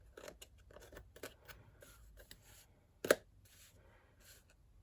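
Scissors snip through paper while snowflake shapes are cut for a Frozen-themed stack of boxes: a series of close, crisp cuts in an uneven rhythm, with one sharper, louder snip near the end.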